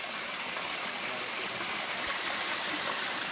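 Clean water pours steadily from a small pipe at an outdoor spring, a continuous close rushing splash with no pauses.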